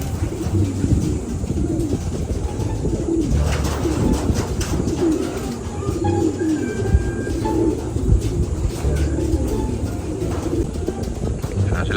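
Racing pigeons coo at a home loft amid constant outdoor background noise, their low rolling calls overlapping from several birds, with occasional wingbeats or scuffles nearby.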